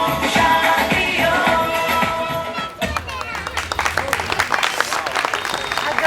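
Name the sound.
audience applause for child performers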